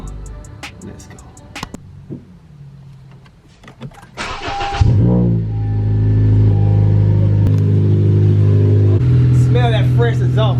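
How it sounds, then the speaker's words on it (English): A 9th-generation Honda Civic Si fitted with an Invidia exhaust and REV6 downpipe cranks over, catches and settles into a loud, close, steady idle with a brief rev, while people talk faintly at the start. "we're about to turn this car on and see how it really sounds"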